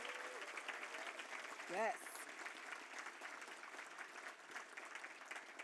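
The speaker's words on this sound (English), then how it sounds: "One more round of applause for all of this evening's honorees." An audience at a distinguished alumni awards ceremony applauds the evening's honorees, a steady, fairly faint and distant wash of clapping that continues throughout, with a brief spoken word over it.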